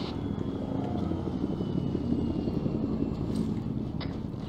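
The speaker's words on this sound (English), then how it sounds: "I hear a helicopter right now." A helicopter flies in the military video game Arma 3 during an airbase battle, giving a steady, fairly loud rotor and engine rumble with no let-up for the whole stretch, and no voices over it.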